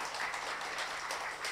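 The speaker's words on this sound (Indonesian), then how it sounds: "Tepuk tangan buat Tuhan." A church congregation claps together in a brief, steady burst of applause offered to God during a sermon, with a few louder claps standing out from the crowd.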